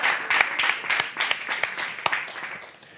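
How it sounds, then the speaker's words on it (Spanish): Audience applause at a Spanish book event with author Mercedes Ron, a dense burst of many hands clapping at close range that gradually thins and fades toward the end. "Un aplauso para Loren Inchi"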